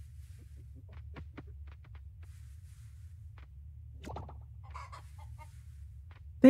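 Chickens cluck inside a barn in the farming game Coral Island, several short scattered clucks and squawks over a low steady ambient hum.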